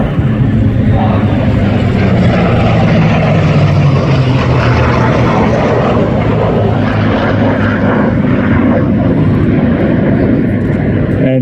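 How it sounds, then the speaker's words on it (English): An F-35A Lightning II jet at the 2024 Shellharbour airshow makes a loud, sustained roar that fills the whole stretch without pause, powerful and close. "And the F-35 today flown by Squadron Leader Ross Bowman"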